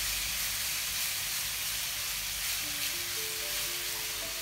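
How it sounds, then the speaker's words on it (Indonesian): Spice paste for fried rice vermicelli sautéing in a pan, giving a steady broadband sizzle and hiss that runs continuously at an even level, with a faint tonal hum entering toward the end. "sekarang ini ya saya mau tumisin bumbunya untuk bihun gorengnya"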